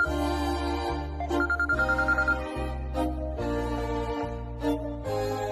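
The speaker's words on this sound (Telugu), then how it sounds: "పెద్దబావ ఫోన్ నుంచి వస్తుందేంటి?" A mobile phone ringtone plays a looping electronic melody with repeated tonal phrases and a brief rapid trill, steady and clear, indoors in a TV drama scene with no talking.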